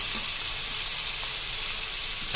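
Diced tomatoes and potato pieces dropped into hot oil for sambar, giving a steady, fairly loud broadband sizzle that holds evenly throughout with no talking.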